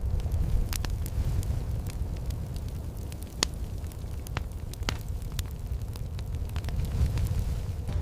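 A fire burns with a continuous low roar, sharp crackles and pops scattered irregularly throughout, steady and fairly close.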